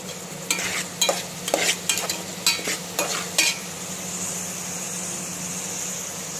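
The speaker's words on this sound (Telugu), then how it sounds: "మంచిగా వేగనివ్వండి. కరివేపాకు కూడా వేసుకోండి." Egg mixture fries with curry leaves in a pan, giving a steady sizzle broken by several sharp scrapes and clinks of stirring in the first half, then an unbroken frying hiss.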